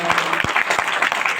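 Audience applause at a gathering, a short burst of brisk, close clapping with a voice briefly audible at the start.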